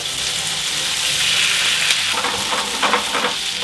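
Water poured into a hot pan of oil and spices sets off a loud, steady sizzle that holds throughout, with a few sharper spits and crackles toward the end and no talk.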